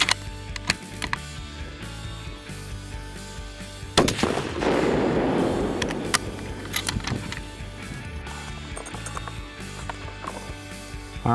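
A long range rifle shot during a box test session fires as a sharp loud crack, with a brief rumbling echo and roll trailing off, surrounded by faint clicks and handling noise.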